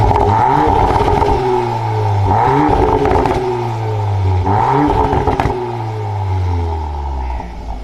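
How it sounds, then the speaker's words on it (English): A Volkswagen Golf R engine revs hard several times in quick succession, each roar climbing then dropping away with crackling exhaust pops between bursts, loud and close with no voices. "I mean, you get pops from a Golf."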